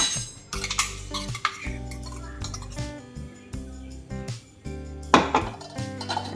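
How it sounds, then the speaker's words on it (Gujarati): Metal sieve and vessel clanking while homemade chai masala powder is strained, with a series of close metallic clinks, taps and scrapes at an irregular pace and no talking. "ગળણાની મદદથી મસાલો બધો જ કાઢી લેવાનો છે જેથી કરીને એકદમ આપણને ફાઇન પેસ્ટ મળશે"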